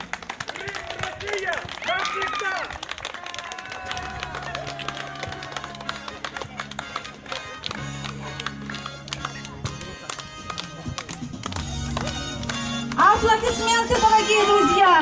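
At a ribbon-cutting ceremony in Kirovsky district, Crimea, a crowd claps in a quick patter over music and voices, and the clapping swells louder toward the end.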